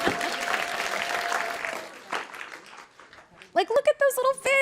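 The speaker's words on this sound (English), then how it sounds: "Everyone, give me a round of applause" An audience claps together in a round of applause at a marine biology science talk, the clapping fading out partway through before a speaker starts talking excitedly over the quieter room.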